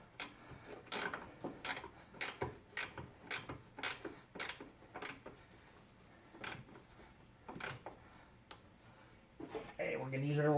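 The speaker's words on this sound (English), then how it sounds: "use our wrench to get the final torque on it" Wrench tightening a top motor mount bolt on a 2007 Nissan Altima, a close, quiet run of rhythmic ratcheting clicks in quick bursts, with talk rising at the end.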